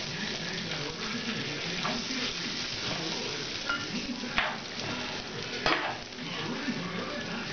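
Bacon frying in butter in a pan crackles and sizzles steadily at close range, with a couple of sharper pops or clatters standing out.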